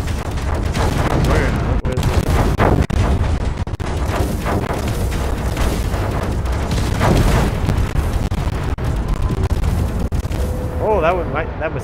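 Cannon fire and explosions in a Space Engineers moon-survival battle: dense, continuous booming and rumbling blasts fill the whole stretch, loud and overlapping, with a brief rising whine near the end.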